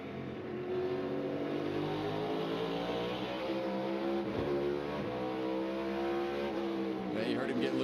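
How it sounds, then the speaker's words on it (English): NASCAR Cup Series race car at Martinsville Speedway, heard from on board with the throttle held wide open, gives a loud, sustained engine roar that climbs in pitch with brief dips at gear shifts. "you'll notice when you hear the gear shift, you see his foot stay wide open"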